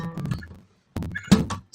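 Two short bursts of plucked guitar strings, soft-attacked and close, separated by a brief silence.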